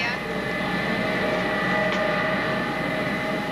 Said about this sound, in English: The 727 carrying Cooper and his fellow passengers swung out onto the airport runways